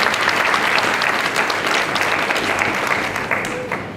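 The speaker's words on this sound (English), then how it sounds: "So give them all a round of applause." An audience at a hospitality training programme graduation claps for the graduates, sustained loud applause from a crowd that fades slightly toward the end.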